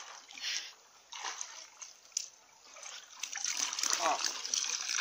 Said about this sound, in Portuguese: Já começou a sair, a água tá começando a alumiar